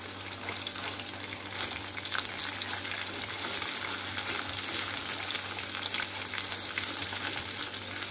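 Pepper paste and tomato paste sizzle in hot oil in a pan: a steady, loud, broadband frying hiss that continues unbroken throughout, with no voices.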